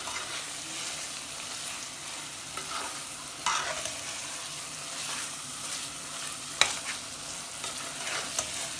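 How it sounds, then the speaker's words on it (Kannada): Ginger-garlic paste and cooked tomatoes frying for chicken biryani, a soft steady sizzle with occasional spoon-against-pan scrapes and clinks, fairly quiet and close, no talking. "ನೋಡಿ ಈಗ ಫ್ರೈ ಮಾಡಬೇಕು."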